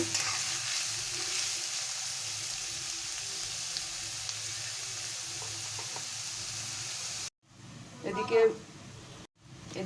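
Chopped onions fry over a medium-low gas flame for a chicken gravy, a steady close sizzle running for about seven seconds before it drops away and a voice talks briefly over quieter background.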